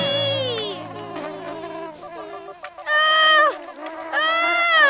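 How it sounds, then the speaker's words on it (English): A cartoon bee's buzzing whine in a children's animated show, a wavering harmonic drone that surges loudly in two bursts near the end, with a voice crying out earlier over a low hum. "There's a bee who's trying to sting me!"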